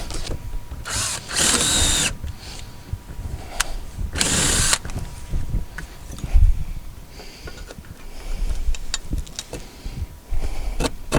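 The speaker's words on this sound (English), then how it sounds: "I'm not going to mark it, just going to drill it." Power drill boring bolt holes for a Zurn carrier for a wall-hung toilet, heard in two loud bursts of about a second each, with clanks and handling noise between them.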